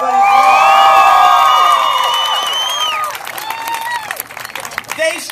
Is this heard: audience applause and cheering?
yes